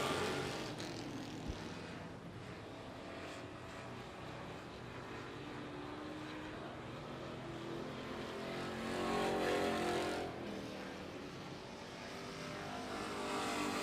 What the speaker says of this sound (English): 4 to go in heat number 1 for our GR Environmental Street Stock Division here tonight